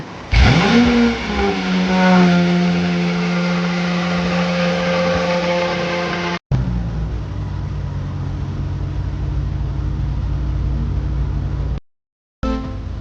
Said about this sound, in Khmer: ឥឡូវនេះ បងប្អូនអាចមកស្ដាប់ជាមួយនឹងសំឡេងរបស់ម៉ាស៊ីន V12 ទាំងអស់គ្នា